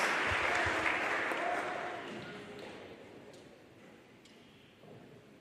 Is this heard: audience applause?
yes